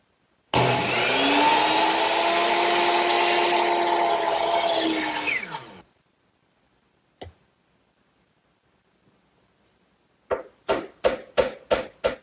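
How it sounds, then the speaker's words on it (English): A power miter box saw cuts a wooden face frame piece set at 90 degrees: a loud whining cut lasting about five seconds, then a single sharp knock and a quick run of tapping clicks as the pieces are handled. "I'll cut these over here on my miter box, which is already set at a 90-degree angle."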